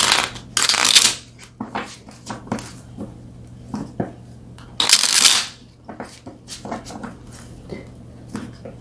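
Tarot cards are shuffled close to the microphone. Two loud riffle bursts stand out among softer taps, slides and card handling noises, with no talk.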